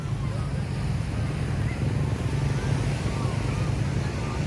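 Waves break and wind blows at Sambolo beach in Anyer, a steady dense roar of surf mixed with gusty microphone wind noise, continuous and fairly loud.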